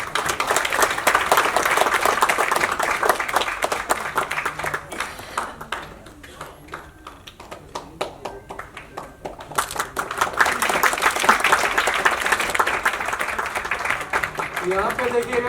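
Loud applause from the audience at a foundation day arts event, a crowd clapping rapidly, then dropping to sparse scattered claps midway before swelling back into full clapping with voices mixed in.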